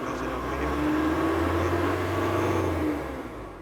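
A Nissan Navara engine with a P012B trouble code drones steadily up to about 2,000 rpm, then eases off near the end.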